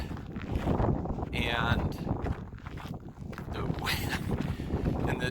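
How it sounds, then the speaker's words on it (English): Crosswind buffeting a motorcycle rider on a desert road near Joshua Tree, a loud gusty roar surging and fading across the mic, with someone talking over it. "So I was in this crosswind"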